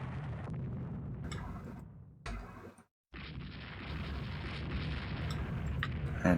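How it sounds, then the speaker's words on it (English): A torpedo strikes a warship in the naval strategy game Rule the Waves 2, heavy muffled explosions and rumbling booms with a short cutout before the blast noise swells again. "Marengo class hit by a torpedo."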